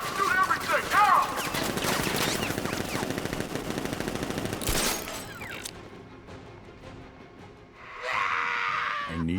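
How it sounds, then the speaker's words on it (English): Rapid automatic gunfire in Batman Arkham Knight, loud sustained bursts of shots with shattering and crashing, then cutting off and leaving quieter ambient noise with a brief rising swell near the end. "Open fire! Shoot everything! Now!"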